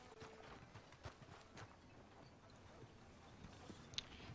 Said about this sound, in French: Pourquoi mon cheval il est là-bas?